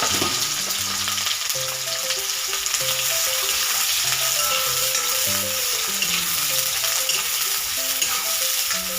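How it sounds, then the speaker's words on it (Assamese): Onion and fish fry in hot oil in a pan, a steady dense sizzle running unbroken and fairly loud throughout, with music playing underneath. "এইখিনি অলপ দেৰি ভাজি ল'ম।"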